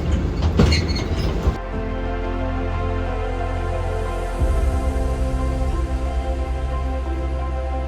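Vintage train on the Hoorn–Medemblik heritage line rolling along, a steady low rumble with tonal hum and faint wheel clatter, preceded by a brief burst of noisy clanking early on; no voices.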